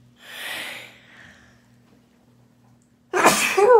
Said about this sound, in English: And I have to sneeze again.